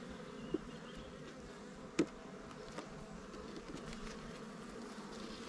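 Honeybees buzzing at an open hive in spring, a faint, continuous low hum from the colony with a few light knocks.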